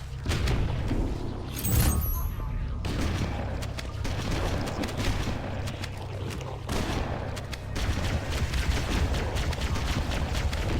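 A grenade in Halo: Combat Evolved bursts with a loud boom amid repeated sharp gunfire and crackling blasts, dense combat noise continuing across the whole stretch.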